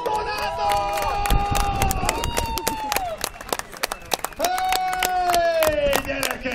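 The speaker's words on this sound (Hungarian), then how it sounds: "Egy nagy tapsot Donátok!" Crowd clapping and cheering at a jet-car show, a dense burst of applause mixed with shouting voices and some whistling tones.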